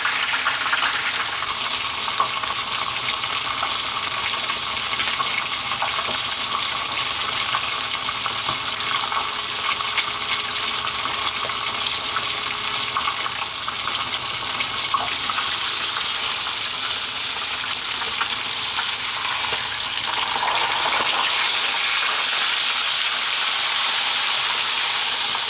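A whole sea bass, head removed, frying in oil in a pan, a loud, dense, continuous sizzle and crackle held close for a long stretch with no voices.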